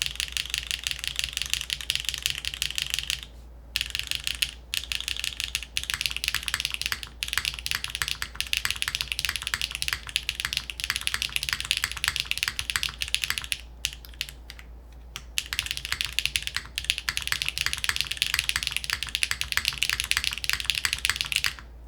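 Fast, continuous clacking of a Stratum-80 mechanical keyboard being typed on, dense and close, with brief pauses and a steady low hum underneath.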